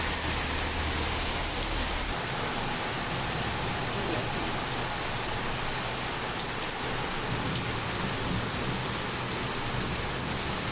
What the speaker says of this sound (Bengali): আজকে সকাল থেকেই প্রচুর বৃষ্টি